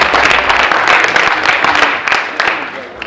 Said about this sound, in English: Give yourselves a round of applause because we know you're Ram ready.